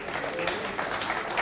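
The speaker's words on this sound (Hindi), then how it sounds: "अब बजाओ तालियां" An audience at a spiritual discourse claps together: a dense, steady wash of many hands at moderate volume with no clear gaps, with some voices mixed in.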